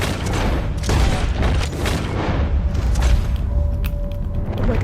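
Gunfire rings out in Red Dead Redemption 2, with several booming rifle shots and crackling bursts in quick succession over dense, noisy game action.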